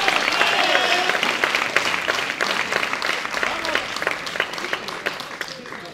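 Crowd applause after a point in a padel final at La Rochelle, sustained clapping with distinct individual claps that gradually thins and fades, a voice speaking over it.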